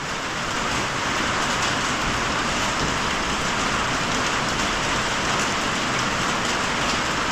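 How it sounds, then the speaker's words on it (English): Steady rain falling outdoors, a loud, even, continuous patter with no let-up throughout. "It's raining, as you can tell."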